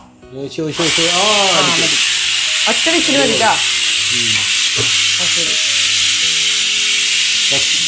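A pressure cooker whistles as it vents steam while prawn biryani cooks, a loud, steady hiss rising about a second in and running continuously to the end, with a person talking over it.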